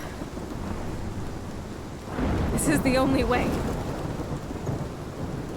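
Steady rain falls in the Life is Strange game while thunder swells and rumbles midway. A voice speaks briefly over the storm.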